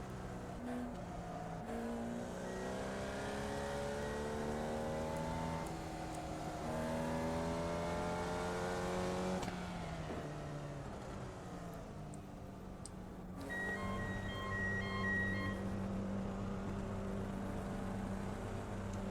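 A race car engine in the iRacing sim drones continuously for nearly twenty seconds, its pitch repeatedly rising through the revs and falling back at shifts, steady and fairly loud with no talk.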